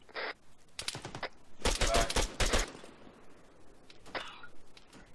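Gunfire in the military shooter game Arma 3: a few sharp bursts, including one rapid volley of close shots, then fainter distant cracks trailing off.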